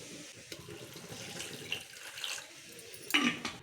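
Water runs from a tap into a vessel to soak a lemon-sized lump of tamarind for dried-fish curry, a steady close splashing stream with a brief louder gush near the end.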